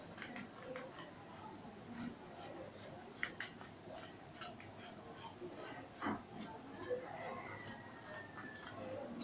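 Scissors cut fabric for a kaftan dress up close, giving a steady run of soft, crisp snips and sliding rasps at an uneven pace, quiet and heard alone.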